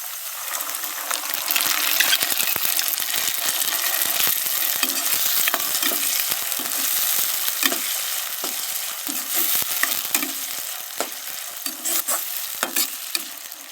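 Tomato paste fries in a pan and is stirred, giving a steady close sizzle with scraping strokes and soft clicks throughout, no voices.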